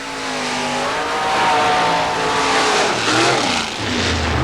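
A 1931 Chevy Coupe four-wheel-drive mud racer on cut tires howls at full throttle during a 1990 Florida mud race, its loud engine whine rising and wavering through the run before dropping to a lower rumble near the end.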